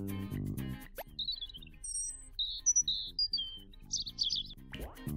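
Robin song played as a bird-quiz excerpt: a series of short, high, thin warbled phrases and trills separated by brief pauses, clear and fairly close, following a short burst of music at the start.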